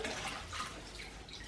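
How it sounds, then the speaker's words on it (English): Hot water running over CPAP machine parts from a DreamStation Auto DSX500H11 during rinsing, a quiet splashing trickle with faint drips, close by and without speech. "rinse it in some really, really hot water"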